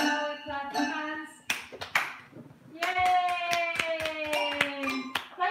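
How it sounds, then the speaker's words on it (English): Hands clap in sharp, evenly spaced bursts in time with a children's song, with voices singing between and over the claps. "If you're happy and you know it, clap your hands."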